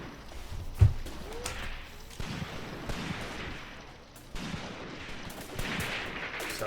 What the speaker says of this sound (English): There we go, some PPSH fire.